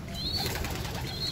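Racing pigeons coo and flap in a loft, with soft wingbeats and low cooing under a steady background, plus two faint high whistling calls.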